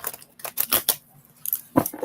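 Tarot cards are shuffled in a few quick, crisp riffling bursts, close to the microphone, with short pauses between them and no talking.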